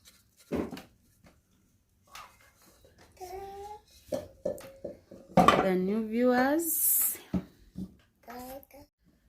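Dishes and cutlery clink as okra and jute leaf beef stew is served: scattered light metallic and ceramic knocks, mostly under a child's chatter and other voices.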